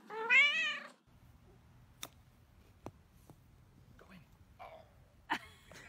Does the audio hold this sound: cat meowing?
yes